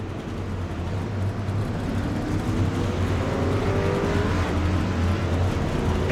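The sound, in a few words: racing trucks at Talladega, from a racing video game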